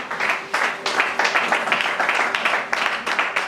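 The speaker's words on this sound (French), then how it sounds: "On acclame très fort pour le roi de gloire." A church congregation applauding loudly in a French-language service, with dense, sustained clapping and rhythmic bursts filling the space, and a few voices mixed in beneath the applause.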